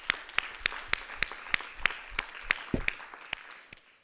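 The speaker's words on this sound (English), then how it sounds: "Let's give it a round of applause." Sparse, evenly spaced claps, about a dozen, ring out at a slow steady pace in a quiet lecture hall, faint and without any crowd noise around them.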